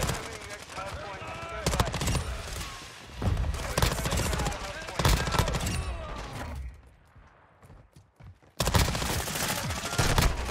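BAS-P SMG gunfire in a first-person shooter game, rapid automatic bursts in long stretches with a brief pause, loud and dense, while a voice talks over parts of it.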